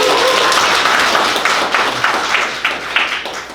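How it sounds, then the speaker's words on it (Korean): Seminar audience applauding as a lawyer is invited on stage at a GPL investment seminar, steady dense clapping at close range that gradually thins toward the end, with no talk over it. "박수 좀 부탁드리겠습니다."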